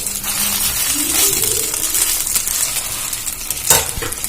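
Steady sizzling of an aloo paratha frying in a pan, with occasional scraping and clinks of a utensil turning it.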